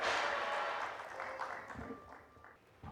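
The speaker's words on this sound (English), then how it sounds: "Can we have a huge round of applause, please?" Applause from a conference audience welcoming a panel discussion onto the dais, loudest at the start and fading steadily over a few seconds, with quieter room sounds and a brief voice near the end.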